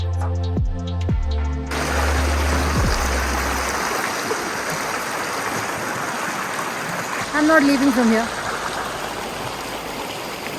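The Indus River in Ladakh flows in a steady close rush that starts after a brief low hum and continues to the end, with a person speaking briefly over the water.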